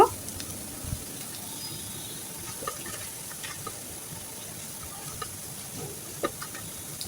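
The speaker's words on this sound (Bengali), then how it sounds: "পেঁয়াজ আর রসুনটা আমি ব্রাউন কালার করে ভেজে নেব" Onion and garlic fry in a pan until brown, giving a steady low sizzle with scattered soft ticks and stirring clicks, fairly quiet throughout.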